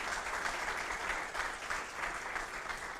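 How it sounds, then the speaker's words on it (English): An audience applauds at a governor's event celebrating a new health care model in Oklahoma, steady continuous clapping from a crowd that sounds somewhat distant and moderately soft, alone without speech. "I want to give him a big round of applause"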